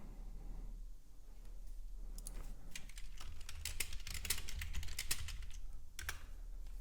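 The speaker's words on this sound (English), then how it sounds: "Yes, you heard typing." Fast, light keyboard typing in irregular bursts, close by, over a low steady hum.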